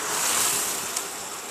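Vatrak river water overflowing and rushing past during the rainy season near a bridge at Malpur, Aravalli, a steady broadband roar of flowing water with faint wind buffeting, continuous and fairly loud without voices.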